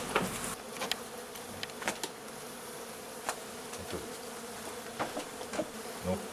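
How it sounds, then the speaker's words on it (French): A dense swarm of honeybees buzzes steadily while being moved into a small hive box, with scattered knocks and scrapes of handling over the constant hum. "J'essaye de mettre un max d'abeilles dans la ruchette."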